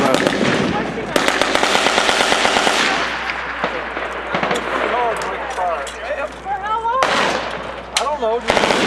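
Rapid bursts of gunfire at a shooting range, loud sharp cracks in quick runs and scattered single shots, with voices talking between volleys.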